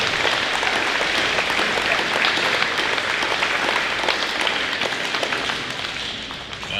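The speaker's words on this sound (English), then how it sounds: "let's give all of our recipients a big round of applause." Audience at a middle school academic awards ceremony applauds the recipients, a dense, steady wash of clapping that holds throughout and eases slightly near the end.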